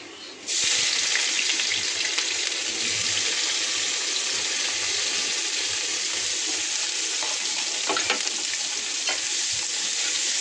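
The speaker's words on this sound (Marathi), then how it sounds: "कांदा चांगला फ्राय करून घ्यायचा" Finely chopped onion sizzles steadily in hot oil with cloves, cinnamon and peppercorns in a pan, a loud continuous frying hiss with occasional stirring clicks and no voices.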